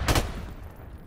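A short burst of gunfire in the shooter game Crossfire, a sharp loud crack at the start trailing off into fainter rattling echoes.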